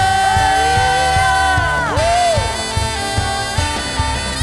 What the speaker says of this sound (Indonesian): Sekali lagi yuk berikan tepuk tangan bagi Tuhan kita. Sorakan haleluya.